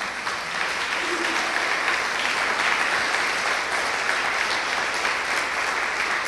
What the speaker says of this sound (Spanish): Quisiera darle un aplauso a Dios.